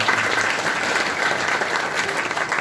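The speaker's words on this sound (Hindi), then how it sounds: "एक बार राजेश सर के लिए जोरदार ताली होती है।" Loud, dense audience applause at a Safe Shop motivational gathering, cheering for Rajesh sir: a thick, continuous roar of many clapping hands with a faint crowd murmur, sustained at full strength throughout.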